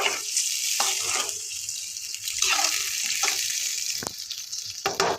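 Water pours into a hot pan of potato curry, setting off a loud, steady sizzling hiss with a few sharp clinks near the end. No one speaks.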